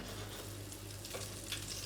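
Eggy bread sizzles in melted Welsh butter in a hot frying pan, a continuous soft crackle and hiss with a low steady hum beneath it.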